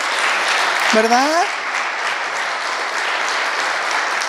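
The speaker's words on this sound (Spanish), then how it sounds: "Denle un aplauso al Señor." A church congregation applauds at a Spanish-language worship service, steady broad clapping throughout, with a woman's brief spoken remark near the start.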